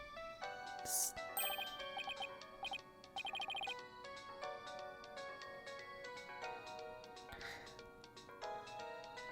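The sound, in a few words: phone ringtone chime in Phoenix Wright: Ace Attorney - Dual Destinies video game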